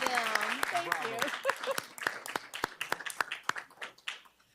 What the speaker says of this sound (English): Oh yes, let's clap for them.